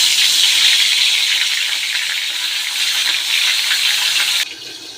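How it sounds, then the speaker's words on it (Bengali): Fish sizzles loudly in hot oil, a dense, steady hiss that holds throughout and then drops off sharply near the end. "চলুন মাছটা দেওয়া যাক তেলে। তেল গরম হয়ে গেছে।"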